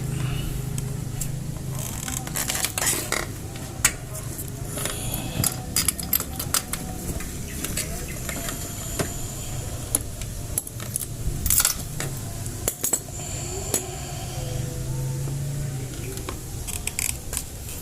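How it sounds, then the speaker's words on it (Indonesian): Spark plug being unscrewed from a Honda Vario scooter by hand, a run of small metallic clicks, scrapes and taps from the tool and plug, close up, with a low steady hum underneath. "Sekarang kita buka businya."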